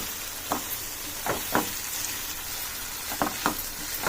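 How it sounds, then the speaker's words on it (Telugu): Tempering for mint chutney sizzling in hot oil, a steady bright frying hiss broken by several short crackling bursts and spoon stirs, close and alone. "ఇది తాలింపు, పుదీనా పచ్చడి తాలింపు అండి"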